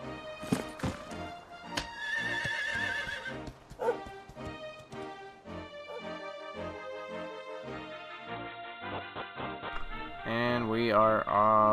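A horse in the video game Dragon Quest XI neighs and gallops amid a busy musical score, with hoofbeats and whinnies mixed into loud melodic game music, the neigh rising clearly near the end.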